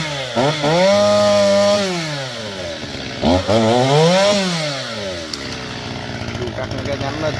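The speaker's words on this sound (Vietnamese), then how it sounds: "Rồi chú mình khởi động máy cho qua xăng nè các bạn ơi." A chainsaw is started and revved beside a palmyra palm tree near power lines, with two rising and falling engine sweeps before settling into a rough idle, loud and close.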